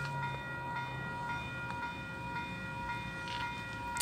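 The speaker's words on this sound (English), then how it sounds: "we have our high-speed Oscar train passing platform number 2, Kiama service" A high-speed Oscar passenger train runs past platform number 2 on the Kiama service, a steady loud rail roar with sustained tonal hum and brief higher screeches, continuous for several seconds with no talking.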